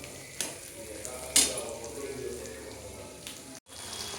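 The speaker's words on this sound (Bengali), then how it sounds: "এই দেখো আমার পেঁয়াজ ভাজা কমপ্লিট।" Onions frying in a pan for chilli chicken, a continuous close sizzle with occasional stirring clatters and a brief dropout near the end.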